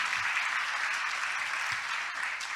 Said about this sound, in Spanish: ¿Por qué no damos un aplauso de gloria al Señor por la vida de todos los que se están conectando en este momento?